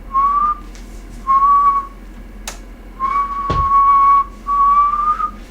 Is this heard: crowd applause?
no